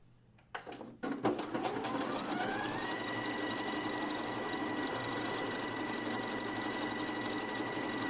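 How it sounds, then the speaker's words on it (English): Janome Skyline S3 sewing machine stitching a decorative heart pattern, starting after a brief click and settling into a steady, close, continuous mechanical whir with rapid rhythmic needle clatter that runs on evenly without talk. "I'm going to do the heart stitches, which is 64. And basically start sewing."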